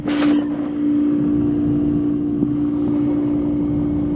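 A BMW 540i engine idles with a steady, low hum without change, a constant mechanical drone with a brief louder burst at the start.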